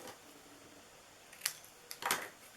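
Scissors cut paper while an Easter basket is being made, a few quiet crisp snips close by, one around the middle and a quick pair near the end, alone in a hushed room.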